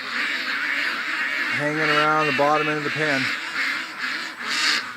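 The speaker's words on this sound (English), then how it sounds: "Yep, duckies are staying close." Ducks staying close near an otter pen give a loud nasal quacking call of several notes over about two seconds, nearby, while someone talks.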